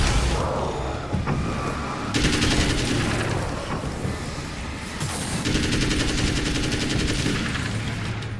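Rapid automatic fire from an M16 rifle in the video game Alan Wake's American Nightmare rattles out in loud, sustained bursts, dense and close, with brief pauses between volleys.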